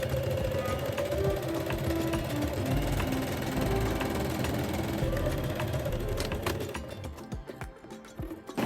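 A sewing machine stitches the side seams of a kimono jacket, running from the sleeve edge down to the hem. It hums and whirs steadily and close by, then slows and stops near the end into a few clicks.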